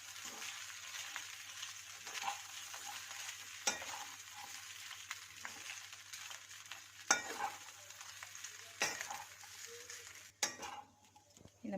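Flattened rice for aval upma is stirred in a pan, soft repeated scraping and a quiet underlying sizzle, with occasional sharper clinks of the spoon against the metal, fairly faint and close.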